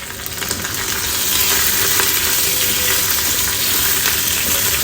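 Dried red chillies sizzle and crackle steadily in hot oil while sambar is being made, a close, continuous frying hiss that holds without a break.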